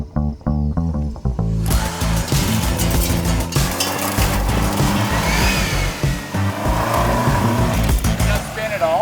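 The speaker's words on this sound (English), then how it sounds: "You can hear that turbo start to spool." A turbocharged 650 hp minivan accelerates hard, its engine roaring up from a lower rumble into a loud, rising surge as the turbo spools with a whistling whine, tires briefly chirping, while people in the cabin talk over it.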